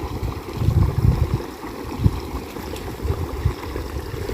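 Water flows along a small channel and spills into grass, a steady near gurgling rush with low churning swells and no voices.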